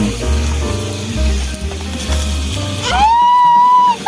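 Loud, close sizzling of pork cooking on a hot Thai tabletop barbecue grill at a campsite, crackling steadily, then a brief high whine near the end.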